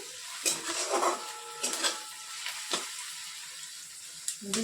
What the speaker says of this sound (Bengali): এবারে পেঁয়াজ কুচিগুলো বেশ ভালো করে লাল লাল করে ভেজে নেব।